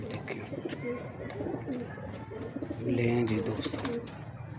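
Pigeons kept by a fancier for flying and breeding coo in low, throaty warbling phrases close by, while someone talks over them throughout.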